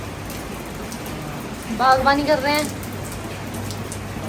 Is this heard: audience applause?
no